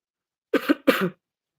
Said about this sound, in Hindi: खाँसी हो गई आपको?